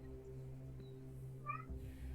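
A single brief, faint cat meow rises out of a steady low hum of room noise, with no speech over it.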